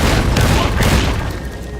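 A Securitron's M235 missile launcher firing in Fallout: New Vegas, a loud close barrage of blasts and booms that peaks early and then tails off into rumbling.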